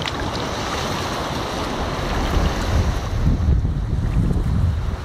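Sea waves washing onto a beach where a small turtle is being released, a continuous loud rushing surf mixed with wind noise on the microphone, swelling slightly toward the end.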